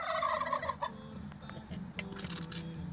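Several turkeys gobble close by in quick, rattling bursts, mixed with some clucking fowl and no speech.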